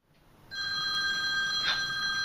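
A telephone rings with a steady electronic tone, starting abruptly after a brief quiet moment and sustaining clearly near the listener, no one speaking.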